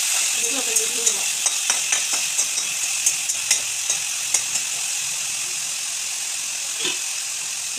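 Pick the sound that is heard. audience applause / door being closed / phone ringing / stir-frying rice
stir-frying rice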